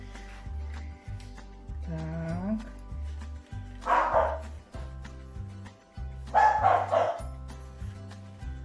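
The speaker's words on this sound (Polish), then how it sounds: "Nasz pies jeszcze szczeka." A dog barks in a few short bursts, loud and close, over steady rhythmic background music.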